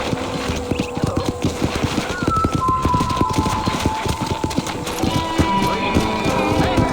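Hooves clip-clopping in a steady, quick rhythm over a constant background hum, like horses trotting along a hard path, in the video game Red Dead Redemption.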